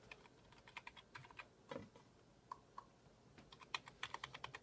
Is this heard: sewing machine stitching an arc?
no